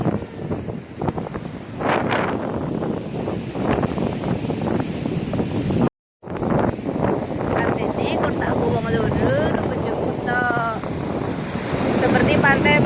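Surf breaks and washes in steadily at Kasap beach in Pacitan, a white-sand shore, while strong wind buffets the microphone throughout. A brief dropout interrupts the roar midway, and voices are faintly audible at times.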